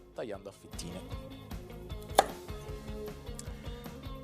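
A knife slicing peeled, trimmed carrot halves on a cutting board, a brisk series of sharp taps at a fairly regular rhythm with one louder knock partway, close and clear, without talk.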